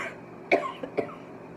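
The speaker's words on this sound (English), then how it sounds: "I keep coughing in here." A person coughs two or three times in quick, short bursts, close and fairly clear in a quiet indoor room with parrot cages.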